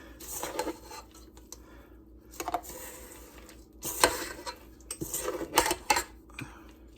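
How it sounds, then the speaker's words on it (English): A spoon stirs thick oatmeal chocolate chip cookie dough in a bowl, giving irregular scraping and clinking bursts against the bowl with short quiet gaps, close by and with no talking. "I always do an additional stir to make sure that I get everything."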